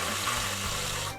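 Water gushes steadily from an RV's low point drain during winterizing, a close, continuous splashing flow lasting about a second.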